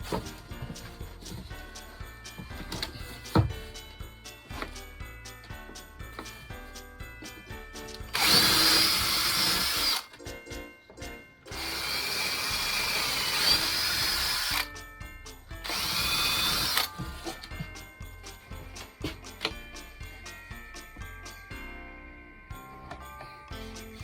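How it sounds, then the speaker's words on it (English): A power drill drives screws roughly 15 mm deep into overhead cabinet boards, giving several loud, close whirring bursts of a few seconds each, with quieter clicks and handling clatter between them. "and drill them"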